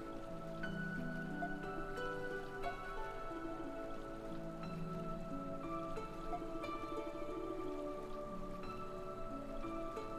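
Steady rain patters in the video game Ys VIII, a soft continuous hiss running beneath melodic background music throughout.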